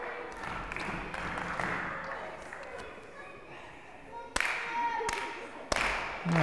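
At a wrestling title fight, a wrestler claps his hands together in three sharp, loud smacks near the end, heard over crowd murmur and commentators talking.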